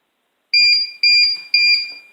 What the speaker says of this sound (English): Now you can see the page is beeping.